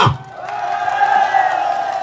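A large crowd at a political party rally in Khotang, Nepal, roars and cheers loudly in a sustained, dense wash of voices.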